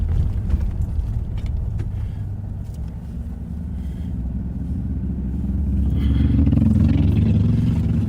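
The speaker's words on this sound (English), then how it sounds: "I could hear the engine in the Cadillac went by." Cadillac engine rumbling as cars drive past on a road, a steady low roar that swells louder toward the end as a vehicle passes close by.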